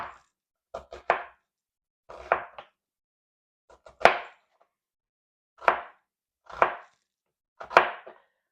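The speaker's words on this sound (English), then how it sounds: "Well, give our onion a cut." A knife chops through an onion on a cutting board in a home kitchen, giving a series of sharp, separate thuds in irregular bursts, close and fairly loud, with quiet gaps between strokes.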